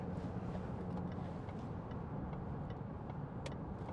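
A 2016 Range Rover Sport 3.0 SD V6 HSE automatic 4WD cruising at speed, heard from inside as a steady, even low drone of engine and road noise with no talk.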